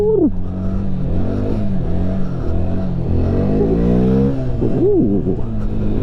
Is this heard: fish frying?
no